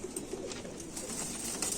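A white-faced, black-tailed Indian Rampuri pigeon coos softly in a series of low, repeated murmurs against quiet background noise, with no speech.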